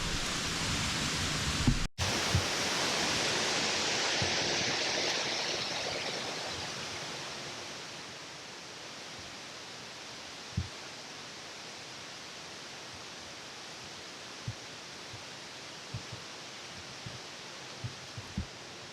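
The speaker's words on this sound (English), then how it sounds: "It's super windy right now." A loud roar of gusting wind during a Michigan deer hunt opens the recording, then eases into a steadier, quieter rush with a few soft knocks scattered through it.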